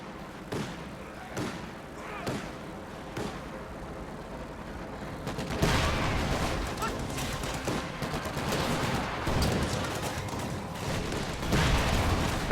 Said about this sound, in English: Raketenwerfer's firing at the EZ-8 right there